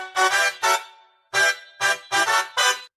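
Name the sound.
Yamaha Montage M synthesizer chord trigger playing chords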